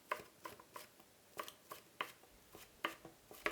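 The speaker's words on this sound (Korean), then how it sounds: "나머지 대파 송송송 썰어주세요." A knife chops green onion (daepa) on a cutting board in a series of quiet, crisp taps at an uneven but steady pace, close by and with no talk.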